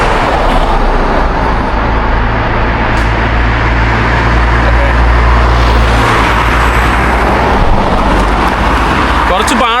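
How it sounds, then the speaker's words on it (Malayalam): Road traffic on a highway in Ukraine, with cars and heavier vehicles rumbling past close by in a steady, loud wash of engine and tyre noise for the whole stretch, with wind buffeting throughout. "ഞാൻ വീണ്ടും ഹിച്ചേക്കട്ടെ, വണ്ടികൾ വരുന്നു."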